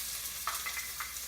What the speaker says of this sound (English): You're gonna just add that to your pot, and you need to have this on kind of a low to medium heat. To this, you're going to add 1 chopped onion.